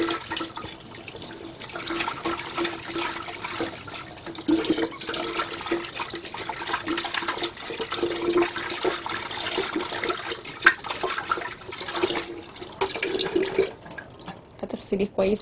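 Running water rinses the inside of an electric kettle being cleaned of limescale, a continuous close splashing rush with shifting gurgles. It pauses briefly near the end.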